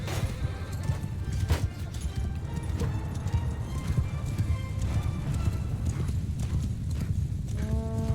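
Hoofbeats of horses galloping in a video game battle, a dense rapid clip-clop rolling steadily throughout, loud and close, with a brief whinny-like tone near the end.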